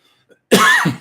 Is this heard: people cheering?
no